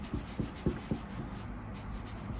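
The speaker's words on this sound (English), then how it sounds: "I'm gonna use an oily rag, but I probably need more oil than that" Soft rubbing of an oily rag over a Skilsaw 77 worm drive saw, a few quick close strokes at first, then quieter wiping against a steady background hum.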